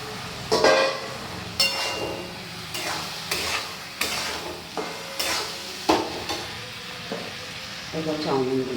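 Chow mein noodles stir-fried in a pan with fried eggs and plenty of soy sauce, sizzling steadily with repeated scraping stirs and occasional utensil clinks against the pan.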